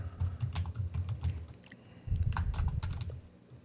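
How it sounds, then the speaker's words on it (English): Fingers tap quickly on a computer keyboard in two bursts of close, light clicking separated by a brief pause, quiet and without talk. "Let me type your name real quick."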